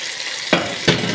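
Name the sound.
tomato sauce sautéing in a pan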